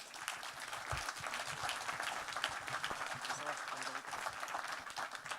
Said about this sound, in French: on peut peut-être les applaudir un petit coup quand même.